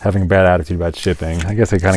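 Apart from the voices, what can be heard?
No everyday noise stands out behind the speech.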